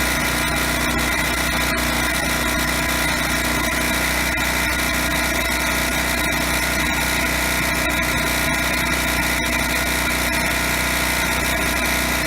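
A TroyBilt generator's small engine runs steadily at a constant pitch after a carburetor cleaning, a loud, unbroken mechanical drone with no pauses or voices.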